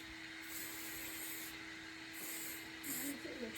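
Hairspray hisses in short bursts over finished hair curls, faint and close, a steady tone running beneath the sprays.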